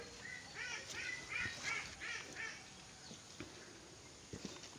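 Black Australorp hens in a coop making a run of nasal, honking clucks in quick succession, then a few scattered knocks and shuffles as the birds settle, moderately close.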